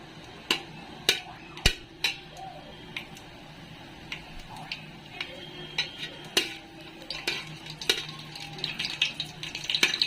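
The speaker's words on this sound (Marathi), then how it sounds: "खडा मसाला टाकते मी ते तेलात. परतून घ्यायचा चांगला." Whole spices sizzle and get stirred in hot oil in a home kitchen pan while biryani is being made, with faint frying hiss under sharp, scattered clinks and taps of a spoon against the pan, close by and without speech.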